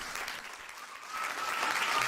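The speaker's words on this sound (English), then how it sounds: "Round of applause for Bottle." Applause from a live audience at a football phone-in show, a brief burst of clapping that swells slightly toward the end, heard on its own.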